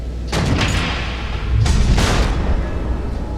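Missile explosions in Telltale's Batman game: two heavy booms a little over a second apart, each a broad rumbling burst that fades slowly under a constant low background roar.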